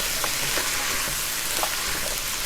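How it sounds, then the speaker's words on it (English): Vegetables stir-frying in a hot pan, a constant crackling hiss with occasional soft scrapes from stirring, no voices. "Now I'm going to keep on stir frying this."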